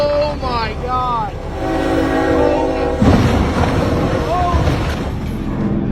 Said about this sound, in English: Train crashes into tractor trailer, breaks wind turbine blades in half.